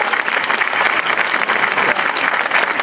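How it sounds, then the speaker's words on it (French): An indoor audience claps warmly at a town's New Year's address given by a mayor, a dense, loud, steady burst of applause filling the room throughout. "Je pense qu'on peut les applaudir."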